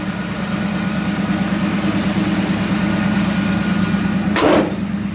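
A 1964 Chevrolet Impala SS with a 327 engine, high-torque starter and dual exhaust idles steadily and loudly, with a short sharp burst near the end and no talking.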